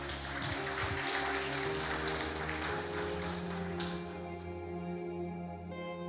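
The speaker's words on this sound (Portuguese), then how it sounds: "Aplaude o Senhor Jesus." A church congregation applauds during a worship service, a steady wash of clapping over sustained keyboard chords that carries on for several seconds.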